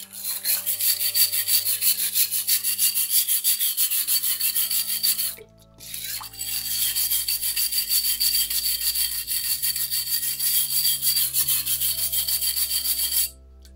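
Abrasive rubbing along the edges of a fused glass piece to clear away sharp bits of frit, a steady, close, continuous scraping with a brief pause midway, heard alone without talk.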